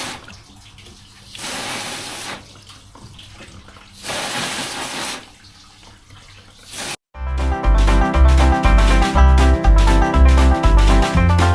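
Fish fillets are rinsed under a running faucet. Water gushes from the tap in three loud bursts with pauses between, and rhythmic music takes over in the final seconds.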